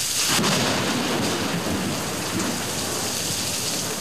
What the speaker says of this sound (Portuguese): O problema são os trovões.